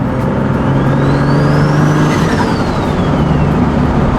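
A loud turbocharged car engine accelerates hard from inside the cabin, with a sustained whir that climbs in pitch and then falls away, over a constant roar of engine and road noise.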